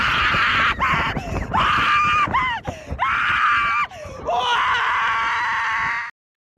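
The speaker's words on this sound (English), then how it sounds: "You guys must really like hearing that lady scream" A woman screams loudly and close up in a string of long, shrill, wavering cries broken by short gasping pauses, then cuts off abruptly into silence.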